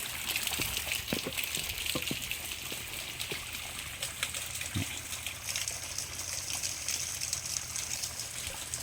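Water running steadily from a garden tap while garden pots are washed outdoors, a close continuous gush with occasional knocks and splashes from the pots.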